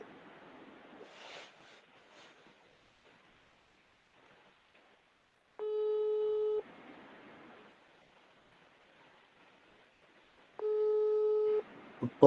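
A telephone busy signal comes through on a call, as two separate steady tone bursts of about a second each, set apart by several seconds of faint background hiss and murmur.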